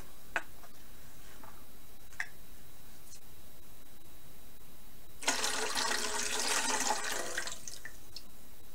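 Water pours out of the spout of a photo tray in a bright splashing gush lasting about two seconds, preceded by a few faint taps and clicks in an otherwise quiet space.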